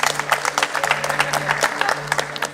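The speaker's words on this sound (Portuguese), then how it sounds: "Uma salva de palmas para o Lucas Martinelli." Church congregation applause, a steady patter of many hands clapping for about two and a half seconds over a low sustained hum, with no voices.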